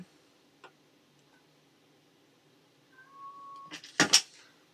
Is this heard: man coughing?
no